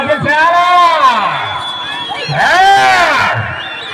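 A crowd at an old-category bull competition in Repalle shouts and cheers in two loud surges, with whoops rising over a steady roar of voices.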